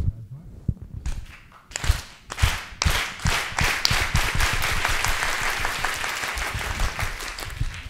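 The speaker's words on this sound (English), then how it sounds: "it's the aplauso campesino, it's the farm worker applause" Farm worker style applause, the aplauso campesino, begins as a few scattered claps, then settles into slow unison beats that speed up into a fast, continuous roar of clapping from a large crowd.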